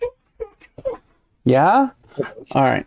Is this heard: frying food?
no